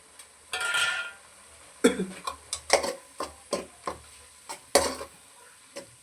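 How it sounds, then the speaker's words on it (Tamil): Onions frying in a pan for mutton curry: a brief burst of sizzle, then a series of sharp spoon-against-pan scrapes and taps as they are stirred, fairly quiet and close. "ஆனியன் கொஞ்சம் நல்லா ஃப்ரை ஆகட்டும்"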